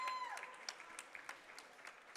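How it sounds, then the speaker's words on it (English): Faint, distant applause from a crowd after a boys' high school volleyball playoff match, a thin patter of clapping that carries on steadily for a couple of seconds. "And a well-deserved round of applause for both of these teams."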